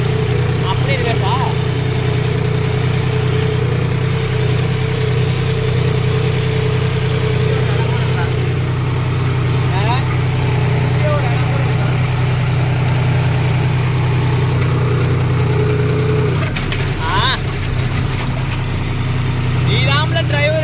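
A John Deere 5050 D tractor pulling a 9-ton cultivator runs with a steady, loud, unbroken engine drone for the whole stretch, while people talk over it.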